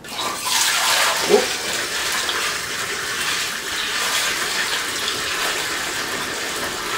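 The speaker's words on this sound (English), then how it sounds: "Next step, we're gonna fill up our carboy." Five gallons of water pour through a funnel into a glass carboy, a loud steady gushing stream with a brief exclamation partway through.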